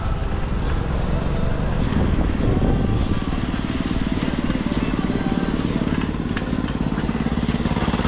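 A motorcycle engine runs steadily up close, a loud, constant rumbling drone with wind noise throughout.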